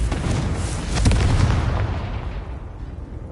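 Confringo spell blasts in Hogwarts Legacy, a loud booming explosion with a sharp crack near one second that then rumbles and fades, with no talk over it.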